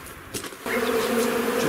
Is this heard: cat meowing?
no